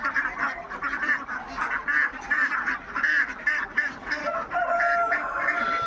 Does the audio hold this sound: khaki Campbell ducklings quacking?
yes